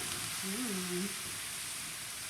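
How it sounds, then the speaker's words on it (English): A steady, hissing sizzle of Australian Chardonnay white wine hitting a hot pan fills the clip, with a brief voice sound near the start. "Can you hear it sizzling?"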